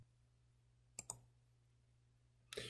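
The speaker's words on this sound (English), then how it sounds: "Now when I'm clicking on any of these items on the question tree" A computer mouse gives two quick clicks close together, then after a pause a third, brighter click, all faint against a quiet background hum.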